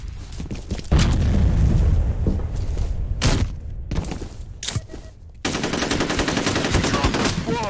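Gunfire and a grenade explosion erupt in the video game F.E.A.R., with loud automatic bursts, sharp booming blasts and a dense, sustained stretch of rapid fire near the end.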